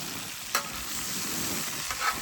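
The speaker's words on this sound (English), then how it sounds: "So you try to keep things moving, similar to a stir fry," Discada dish frying and being stirred over heat outdoors at a lakeside campsite, a steady broadband sizzle with a couple of brief scraping stir accents, moderately close and with no talking.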